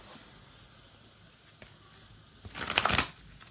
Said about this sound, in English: I'm going to pull some cards from here.